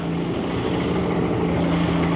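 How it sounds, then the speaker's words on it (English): Old Caterpillar diesel tractor being started with its small pony engine at an antique machinery show, a steady droning mechanical hum and buzz at moderate distance, constant without pauses. "They're using a pony to start up a diesel over there. What looks like an old Caterpillar tractor."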